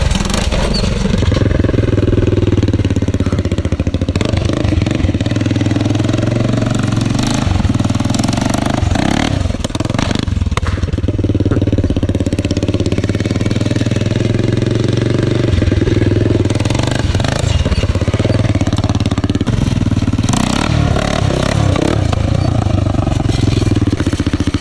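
Quad bike engine fitted with a custom exhaust, roaring loud and close for the whole stretch with repeated revs and throttle surges while the rider pulls wheelies outdoors.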